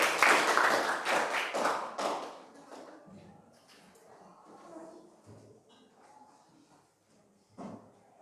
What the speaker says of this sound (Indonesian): Kasih aplaus dulu buat kelompok kinestetik.